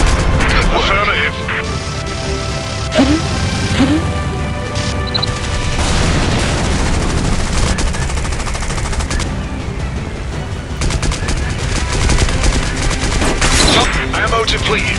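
Video game gunfire from a flight game: dense, loud, sustained bursts of rapid shots and booms with crashing impacts, filling the whole stretch, with game voice callouts mixed in.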